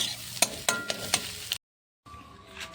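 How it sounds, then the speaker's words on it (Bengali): An egg frying lightly in a kadai sizzles up close, punctuated by sharp scraping and tapping of a spatula, then a brief cut to silence before the soft sizzle resumes. "এরকম হালকা হালকা করে ভাজতে হবে"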